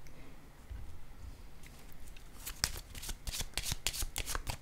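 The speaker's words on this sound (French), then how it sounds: "je vais déposer une carte ici" Playing cards are laid down and handled on a table, a quiet stretch giving way to a quick, close run of crisp flicks and slaps in irregular bursts, with no voices.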